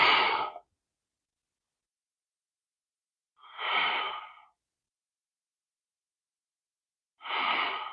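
Three slow, deep breaths during a yoga flow, each a soft airy whoosh lasting about a second, close to the microphone and separated by long silent gaps.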